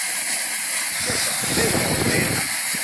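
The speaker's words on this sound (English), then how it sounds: "Most of the air coming out is the compressor air." Compressed air hissing out of a dented two-stroke exhaust pipe, a continuous broad hiss with a rougher gurgling rush swelling through the middle, close and steady.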